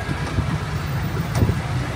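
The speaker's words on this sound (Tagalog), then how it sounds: "Oh, ang hangin." Wind rushes steadily across the microphone in low, buffeting gusts, with a faint vehicle rumble underneath.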